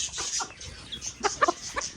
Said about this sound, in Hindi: पहले उठाता हूँ ये वाली मुर्गी और फिर ब्लैक वाली